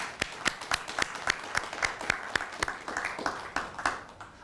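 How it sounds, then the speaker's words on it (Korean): A burst of clapping from a small audience at an academic conference, with sharp individual claps at an uneven, lively pace. The applause continues steadily and slowly thins toward the end. "우리 박수로 좀 환영해 주실까요?"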